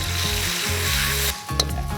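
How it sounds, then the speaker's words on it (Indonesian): Ground spice paste for goat-testicle gulai sizzles steadily as it is sautéed in a hot wok, with a loud, continuous frying hiss and a brief clink of stirring near the end. "Tumis bumbu yang tadi dihaluskan, masak hingga harum."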